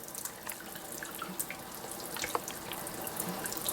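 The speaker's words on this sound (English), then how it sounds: "See, I'm just rinsing this here." Tap water runs steadily into a sink while a face paint brush is rinsed under it, a close, quiet splashing stream with small drips and no talking.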